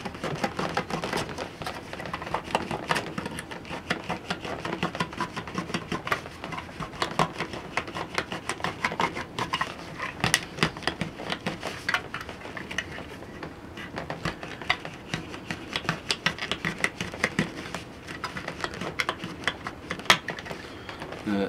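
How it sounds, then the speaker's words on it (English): A small P-38 can opener cuts around a can lid, making a run of quiet, close, irregular clicks and scrapes. "That sound you heard was the final cut."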